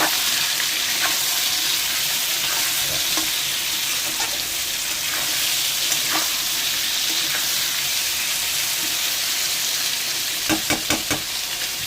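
Ground ginger, garlic, green chilli and tomato paste with salt fries in a pan with a loud, steady close sizzle, a few scraping stirs cutting through near the end.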